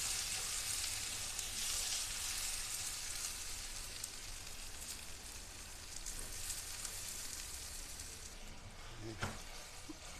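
Tomato, salt, turmeric and chili powder sauté in a pan as a spice masala for a fish curry with taro and potato, giving a steady, soft, continuous sizzle with no talking.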